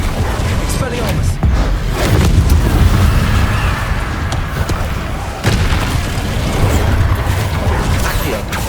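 Spell combat in Hogwarts Legacy as Expelliarmus is cast: dense booming impacts, bursts and crashing magical effects layered over a roaring background, loud and continuous, with shouted spell incantations mixed in.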